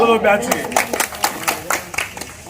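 A group claps at a retirement celebration for thirty years of service at the Government General Hospital, Kurnool, with union members present. A voice opens briefly, then a steady run of close, rhythmic handclaps follows.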